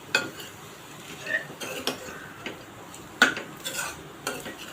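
A spoon stirs through a potato bhaji mixed with crushed peanuts, giving soft scrapes and occasional metallic clinks against the pan, near and fairly quiet, with no one talking.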